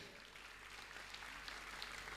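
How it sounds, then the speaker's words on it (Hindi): Applause from an audience at a Jain religious gathering welcoming guests onstage, a soft, steady patter of many hands clapping, sounding distant and faint throughout. "जोरदार ताली से उनका स्वागत भी करें।"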